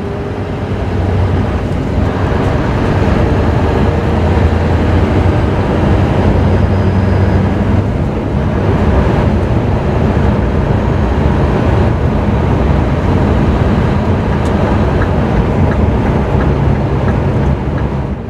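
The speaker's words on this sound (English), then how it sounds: "I'll give you some more sounds of that great engine." A 2006 Scania T500 truck with a V8 engine while driving, giving a loud, steady low drone with road and cab rumble that stays constant throughout.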